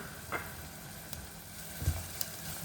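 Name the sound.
garlic added to shallots sizzling in a pan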